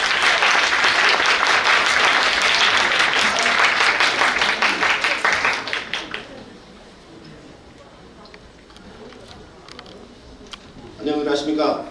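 Wedding guests at a Korean ceremony applaud loudly and steadily as the bride's father enters to read the marriage declaration, the dense clapping lasting about six seconds before fading to a quiet hall, then a brief voice.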